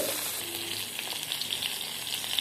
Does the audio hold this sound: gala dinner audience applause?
no